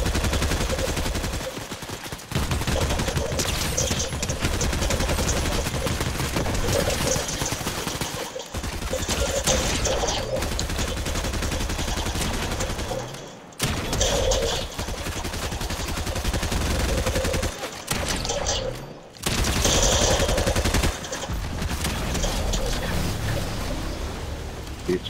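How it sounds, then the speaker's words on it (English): Dense, nearly continuous video game gunfire fills the scene, rapid automatic bursts overlapping into a loud fusillade with only brief pauses between volleys. "There's a lot of shooting going on just now."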